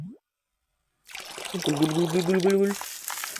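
A brief synthetic video game sound of watering a plant, a soft trickle with a rising tonal chime, following a moment of silence.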